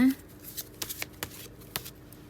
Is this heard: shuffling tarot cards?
yes